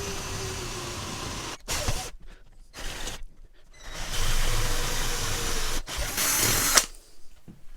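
Power drill boring M8 holes during a water tank bracket build for a Mercedes-Benz 608D fire truck camper, with several close, loud bursts of whining drilling separated by short silences.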